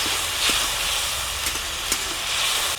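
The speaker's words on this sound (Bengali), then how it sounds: "দিয়ে দেবো হলুদের গুঁড়ো, একটু লাল লঙ্কার গুঁড়ো, পরিমাণ মতো নুন, অল্প একটু জল।" Turmeric, red chili powder, salt and a little water hit hot oil for a Bengali katla fish curry, producing a loud, continuous sizzle and hiss with a few brief spits and pops.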